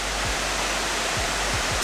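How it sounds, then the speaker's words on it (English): Sipiso Piso, a massive waterfall near Lake Toba in Sumatra, Indonesia, roars as a loud, steady broadband rush that fills the whole moment without a break. "Sipiso Piso, the massive cascade near Lake Toba. This is so powerful!"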